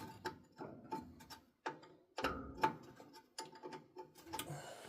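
Wrench working a nut loose on the fuel pump and carburetor area of a 1957 Goliath 1100 Combi, giving a series of sharp metallic ratcheting clicks and clanks at close range, irregular bursts separated by short pauses.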